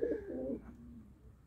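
A small, slim male pigeon coos once up close, a short throaty burst that trails off into a softer fading note, with no talk over it.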